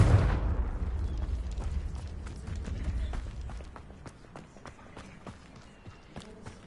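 A Confringo fire spell bursts loudly at the start in Hogwarts Legacy, its broad blast decaying over a few seconds into scattered crackles and footstep-like taps.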